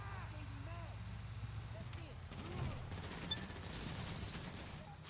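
Gunfire in the GTA V video game crackles in busy bursts, with rapid shots piling up after the midpoint over a steady low rumble.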